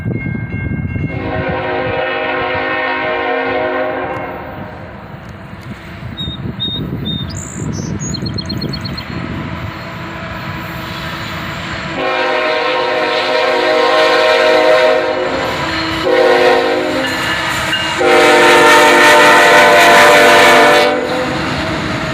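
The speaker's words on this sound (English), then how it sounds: "Three locomotives here, a pair of ET44AHs sandwich a YN2 AC44CW." Freight train with three locomotives, a pair of ET44AHs around an AC44CW, passing close and loud: repeated long horn blasts over heavy rumble and rail clatter, fading briefly mid-pass before the horn sounds again twice.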